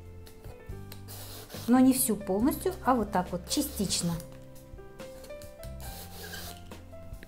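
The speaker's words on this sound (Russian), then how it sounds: "С баклажанов снимаю шкурку" Eggplant skin is partly peeled off in a home kitchen with a few quick rasping, scraping strokes, heard under a person talking.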